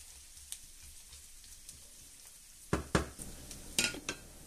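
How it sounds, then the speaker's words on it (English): Garlic gently frying in a pan gives a soft, steady sizzle, broken toward the end by several close scrapes and knocks of stirring. "what we'll do is just gently fry it all off until it's nice and soft"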